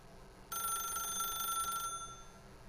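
A telephone rings in The Stanley Parable video game, a steady electronic trill that starts abruptly and holds for about a second and a half before cutting off, loud and close over a quiet room tone.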